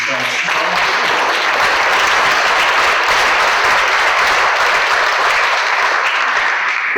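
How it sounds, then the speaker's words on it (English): A loud, dense round of applause fills a town hall gathering on the opioid crisis at Jenna's Promise, thanking event organizers, continuous and unbroken throughout without voices on top. "you deserve a special round of applause"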